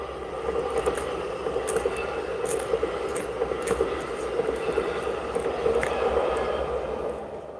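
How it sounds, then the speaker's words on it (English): A train passes by, a broad steady rumble and rattle of rail cars with faint clanks and squeaks that holds evenly for several seconds at moderate distance, with no one talking. "There goes a train."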